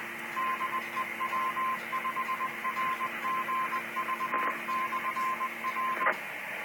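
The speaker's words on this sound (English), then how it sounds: "Do you hear that code for the repeater?" A radio repeater sends its Morse code identification, a steady string of faint, evenly keyed tone dits and dahs over a hissy radio channel, ending with a couple of short clicks.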